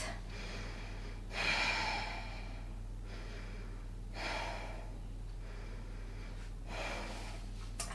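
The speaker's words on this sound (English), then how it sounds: "We're going to take 3 deep breaths." Three slow, deep breaths are taken during a Pilates class. Each is a long, close, airy inhale or exhale, with pauses between them over a steady low electrical hum.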